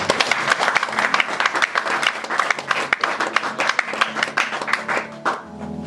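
A church congregation at a Sunday service applauds for the Lord, a steady, lively crowd clapping that keeps going for several seconds, then fades out.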